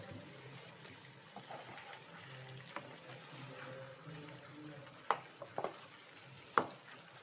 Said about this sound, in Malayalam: ഒന്ന് നന്നായി ഇളക്കി ആ ചിക്കനിലേക്ക് ആ ഗ്രേവിയൊക്കെ ഒന്ന് ആവുന്ന രീതിയിൽ അതൊന്ന് ഇളക്കിയെടുക്കുക